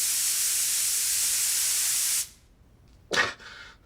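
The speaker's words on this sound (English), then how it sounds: "the spraying's about to start, so close your eyes" A steady, loud hiss of fine spray-tan mist runs for about two seconds, then cuts off, followed by a short, sharper spritz burst.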